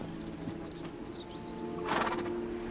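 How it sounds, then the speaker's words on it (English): Horses gallop through a noisy outdoor scene, with a steady rumble of hooves and a louder whinny-like burst late on, with no talking. "one day the horses came galloping"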